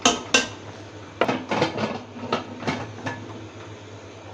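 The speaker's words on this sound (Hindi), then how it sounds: "कुकर को व्यूअर्स मैंने बंद कर दिया है और इसके ऊपर मैंने वेट भी रख दिया है" A pressure cooker lid is shut and its weight set on top while cooking palak gosht: a run of close metallic clanks and scrapes, sharp at first and then a cluster of rattling knocks, over a steady low kitchen hum.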